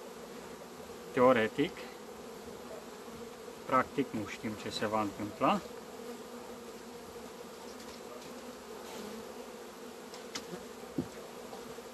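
Honey bees buzz steadily at a hive during a February merger of a queenless colony, a continuous hum with brief louder bursts and close handling noises, while a person speaks quietly over it.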